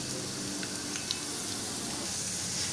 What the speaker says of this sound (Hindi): अब इसी स्टेज में मैं ज़ीरा भी इसमें शामिल कर दूँगी।